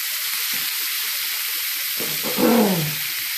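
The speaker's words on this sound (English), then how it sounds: "I just threw a little steam down on these corn" Steam hisses in a steady, loud wash over corn on the cob on a Blackstone griddle, rising briefly into a fuller sizzle near the end.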